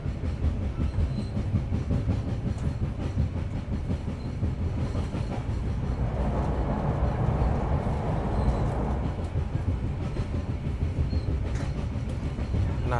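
Beneath a seat in executive car 4 of the KA Brawijaya train nearing Jakarta, the bogie gives a constant low rumble with rhythmic thudding clatter over the rails, steady and close with no voices.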